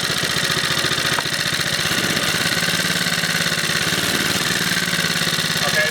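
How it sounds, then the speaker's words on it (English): A Briggs & Stratton 2hp small engine runs loud and close, its fast even chug shifting slightly as it is revved up, with no speech over it. "Let's rev it up a little bit,"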